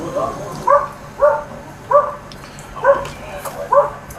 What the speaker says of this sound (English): It's always the little dogs that get aggressive.